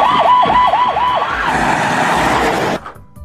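A loud, close ambulance siren wails in rapid rising and falling cycles, then shifts to a steady harsh tone before cutting off abruptly.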